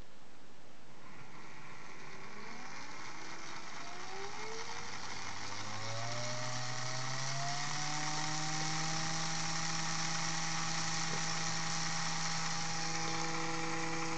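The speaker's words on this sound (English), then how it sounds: "You'll hear the motor kick in." An electric motor on a CCM6DS-K speed controller spins up, a whine rising smoothly in pitch over several seconds, then holding a steady buzzing hum, close and alone.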